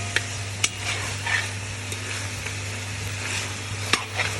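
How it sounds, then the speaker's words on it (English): Mutton sears over high heat in a flat, broad, heavy-bottomed pan, a steady close sizzle broken by sharp clinks and scrapes of a spoon stirring against the metal, with a low background hum. "Increase your heat and let the mutton stick to the pans for a little bit."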